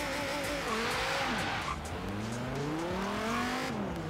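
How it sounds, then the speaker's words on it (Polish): A car in Forza Horizon 3 launches from a standstill on eased throttle, its engine note climbing steadily through the revs with some tire squeal underneath, loud and close. "Popuściłem gazu i próbowałem tak wystartować w miarę w porządku."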